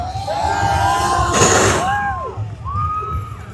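A crowd cheers and yells in a loud swelling burst at a freestyle motocross jump show at an expo in Dallas, rising sharply for a moment over steady whistling and engine tones before easing back.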